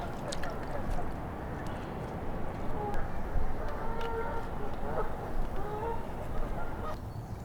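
A goose honks repeatedly near a swans' nest on a small island, the calls moderately close and set against steady outdoor background noise.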